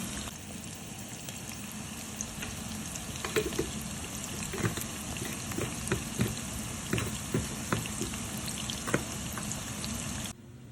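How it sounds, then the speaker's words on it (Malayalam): Two onions frying in a pan with a little sugar for an egg biryani, a steady broadband sizzle with small crackling pops throughout, close and continuous, cutting off abruptly near the end. "നമ്മുടെ ആ സവാള 2 സവാള അങ്ങ് ഫ്രൈ ചെയ്തെടുക്കാം, ബ്രൗൺ കളറാകുന്ന വരെ."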